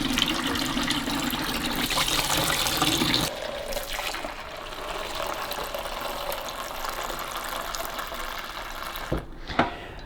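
Warm water running into the removed water tank of a Delonghi Magnifica S coffee machine, a steady rushing fill that changes pitch partway through, then a brief clunk near the end, with no talking.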